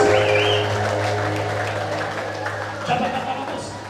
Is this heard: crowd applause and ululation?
yes